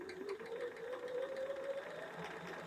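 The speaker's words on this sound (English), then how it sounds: "I'm just going to stitch along my seams" A sewing machine fitted with a Bernina walking foot stitches along quilt seams, giving a continuous, fairly quiet whirring hum with a rising motor whine and a rapid light mechanical patter, with no talk.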